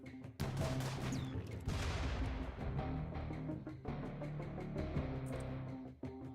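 Mortar blasts and gunfire from a RimWorld colony battle: repeated dull booms and crackling shots over a steady low rumble, loud and continuous, with a sharp burst around the middle.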